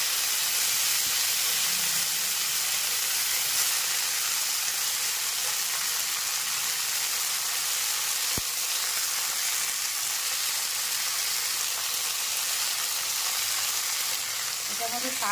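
Water spinach greens fry in a pan with garlic and kalonji, giving a steady, even sizzle that carries on loud and close throughout, with one brief tap near the middle.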